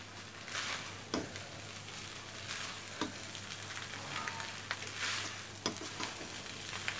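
Leftover cooked rice stirred and fried in a pan over raised heat, with steady sizzling and recurring scrapes of a spatula against the pan, close and continuous.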